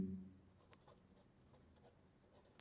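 Faint, quiet scratching of writing on a board during a chemistry lecture, with soft irregular strokes over a low room hiss and no talking.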